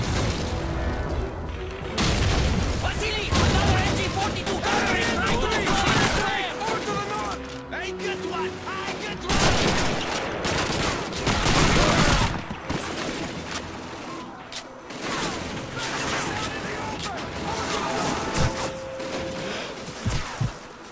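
MG42 machine gun fire and tank combat in Call of Duty 2 on veteran difficulty, with dense bursts, booms and explosions filling the scene while a player talks over much of it.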